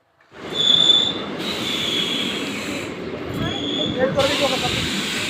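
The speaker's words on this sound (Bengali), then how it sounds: "চলো ট্রেন চলে এসছে এবার এখান থেকে চলে যাই" A train rolls in with a steady rumble and high metallic wheel squeals, hissing as it slows, loud and close throughout.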